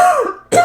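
A single short throat clearing followed by a quick cough, close and loud, with a brief pause between the two.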